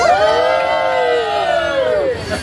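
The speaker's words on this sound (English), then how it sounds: "So on the count of 3, I want to hear a big old cheer." A crowd aboard a Universal Studios tram tour lets out a big, loud, sustained cheer, with whoops and shouts blending into one close roar that fades out after about two seconds.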